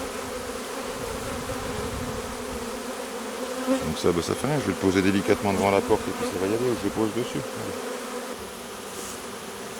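A swarm of honeybees flies and gathers at the entrance of a hive in a meadow apiary, a dense steady buzzing close by with louder pulses midway, while someone talks in French over it.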